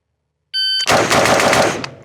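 An AR-style rifle fires a rapid burst on an outdoor range, loud and close, the shots running together into one sustained rattle after a short electronic beep.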